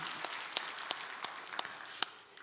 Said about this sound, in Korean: 성령님께 선제 박수로 영광을 돌리겠습니다